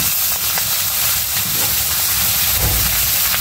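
Dense, steady sizzle of fish frying in hot oil after cumin is added, a continuous broadband crackle close up with no pauses.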